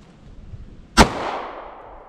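A single sharp 9mm handgun shot from a Taurus pistol fired at 5 yards, one loud crack with a short ringing decay, preceded by faint background noise.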